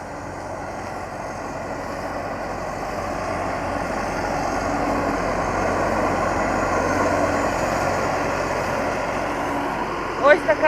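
A Claas combine harvester drives through a wheat field at harvest time in hot weather, its steady engine drone swelling slowly as it nears, with a few short knocks at the end and no talking.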